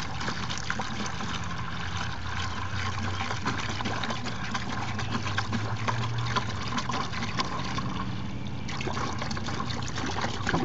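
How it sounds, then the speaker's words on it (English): One gallon of water pours steadily into a large bucket, a continuous close splashing and trickling stream that runs unbroken for about ten seconds with no talking. "first off, I'm gonna add the water. Like I said, this is just 1 gallon of water,"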